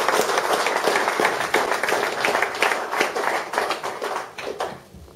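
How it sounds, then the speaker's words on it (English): Indoor audience at a motorbike show clapping in a warm round of applause, dense and fairly loud before fading out near the end. "So give him a wee round of applause."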